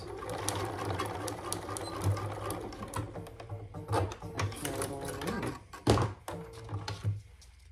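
A Bernina sewing machine runs in short stitching bursts, broken by sharp thunks and taps. It sounds close, with faint talk in the background.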